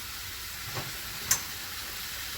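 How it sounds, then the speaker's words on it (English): Broccoli sizzles steadily in a hot pan, a soft continuous hiss with a couple of small pops. "You can hear everything start sizzling."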